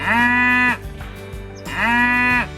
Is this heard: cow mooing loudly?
yes